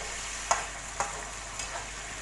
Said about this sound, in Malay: Okey, kacau-kacaukan supaya sebati.